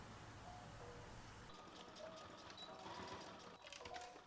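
A sewing machine stitching a seam on a beginner sundress, a steady close whirring run that changes tone partway through, with faint background hiss.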